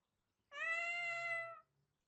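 A cat gives one clear, drawn-out meow lasting about a second, close and alone against silence, in an animated story scene.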